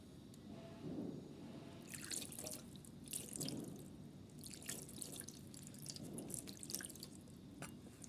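Water from a tap trickles and drips into a basin while a small Laddu Gopal idol is bathed, soft splashes and drops recurring through a quiet room.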